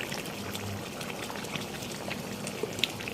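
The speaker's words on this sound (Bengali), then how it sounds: "এখন আমি দিয়ে দিব 1 চামচ ঘি" A spoonful of ghee goes into a pot of simmering beef curry, giving a soft continuous bubbling and liquid hiss, close and moderately loud, with a faint tap near the end.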